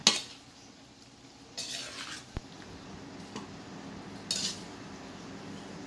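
Spicy tofu and pork belly in oyster sauce, stirred with a metal utensil in a pan, making sharp scraping clinks in bursts over a soft, constant sizzle.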